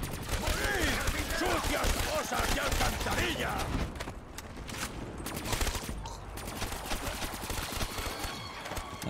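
Gunfire in a Call of Duty Zombies custom map from Black Ops 3 on PC: dense, rapid bursts of shots and explosions fill the clip in a loud, chaotic game mix.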